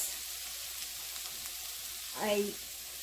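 Onions, shallots, garlic, mushrooms and sun-dried tomatoes sauté in a pan with a steady, soft sizzle throughout, with a brief louder crackle near the end.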